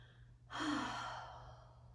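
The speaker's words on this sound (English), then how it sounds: "take a couple of deep breaths in, take a couple of deep breaths out" A single deep breath during a seated yin yoga practice for the hips and low back, a soft, breathy exhale that rises suddenly and then tapers slowly, heard close and alone over a low steady hum.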